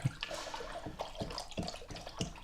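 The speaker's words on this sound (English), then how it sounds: "Mix that up with my toothbrush." Very warm water with about four caps of cleaning solution being stirred with a toothbrush to degrease parts of a Wisner 8x10 large format camera; soft repeated sloshing swishes come in a steady rhythm, close up, with no talking.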